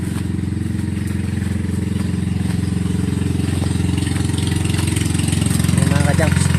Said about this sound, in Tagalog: Dadaang motor.